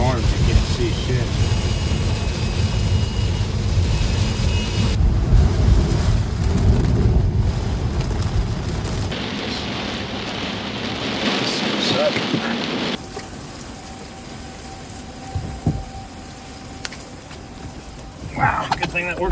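Heavy rain and wind roar around a car driving through a storm, with a steady broadband wash and low rumble, fading quieter midway; people talk over it inside the vehicle.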